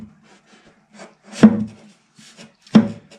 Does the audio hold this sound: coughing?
no